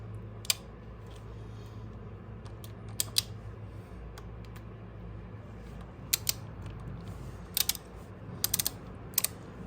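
A wrench ratchets in short clicking bursts while loosening the cam chain tensioner bolt on a Harley engine, sharp close clicks spaced through otherwise quiet workshop air.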